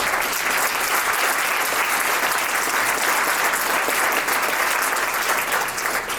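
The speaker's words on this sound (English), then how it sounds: "So, round of applause" A dense, continuous wash of audience applause for the staff at a 2024 winter graduation ceremony, many hands clapping at once and holding a steady, loud level from start to finish.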